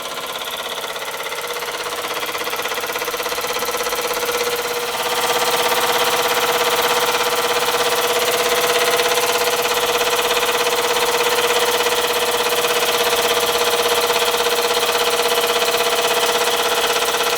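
An Ernst Plank horizontal boiler model steam engine runs steadily with a dense, continuous mechanical chuffing and whirring hum, loud and close, with no talk over it.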